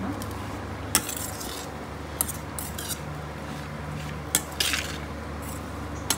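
A spoon stirring mung bean sprout salad in a bowl, soft scraping and moist mixing with a few sharp clinks against the bowl, close and quiet.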